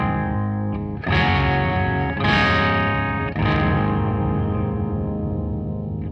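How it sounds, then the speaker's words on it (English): Guitar chords played through a Sonicake octaver pedal give a loud, warbly, muddy distorted tone; three strummed chords ring out in turn, each decaying into a garbled sustain. "If you start to play chords, it's just too much for the pedal to handle."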